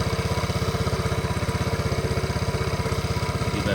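A 1981 Honda Z50 minibike engine idles on choke, with a steady, fast, even putter of close, loud pulses and a light mechanical clatter.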